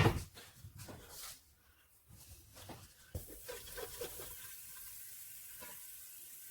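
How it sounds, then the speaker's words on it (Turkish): Oil with a tablespoon of red pepper starts to sizzle in a pan, a faint, soft crackle that builds gradually after a few louder knocks at the start. "Evet cızlamaya başladı"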